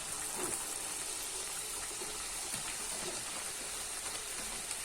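Karam appalu dough frying in hot oil, a steady close sizzle and crackle that hisses evenly throughout with no talking.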